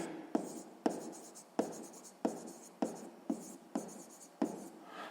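Pen writing on paper during a sixth-grade math exercise, a quiet run of about ten short scratchy strokes in a steady rhythm, close and alone.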